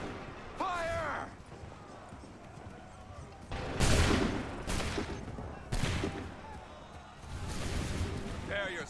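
Musket volleys from an Assassin's Creed video game: several loud, crackling massed blasts that each ring out for about a second, separated by quieter stretches with shouted commands.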